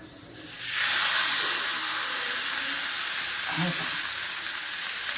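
Rice thalipeeth frying in plenty of oil on a pan, giving a loud, steady sizzling hiss that swells early and holds throughout, with a faint brief clink partway through.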